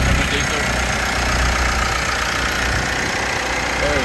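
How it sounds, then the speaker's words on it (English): The 2.4-litre common-rail 4-cylinder turbo diesel of a 2019 Mitsubishi Triton GLX idles steadily with a low, continuous rumble and faint knocking texture, close by and fairly loud throughout. "4-cylinder, turbo diesel."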